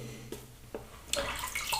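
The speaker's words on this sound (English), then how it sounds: "All right, just a bit of water on there." Water splashed onto a vegan shave soap, a couple of light drips followed by a brief louder wet splash and run of water, close and short.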